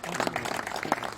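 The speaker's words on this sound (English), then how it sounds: "Gentlemen, give him a big round of applause." An audience at an evening event in honour of Mohammed Irshad and Temoor Alam applauds, with a short, dense burst of crowd clapping heard close and fairly full.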